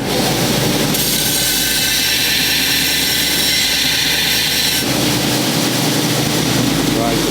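Valgro Hyzer flat belt grinder chamfering the edge of a tube for weld clearance, a loud steady mechanical whir and grinding roar that shifts in tone partway through, with talking in the background.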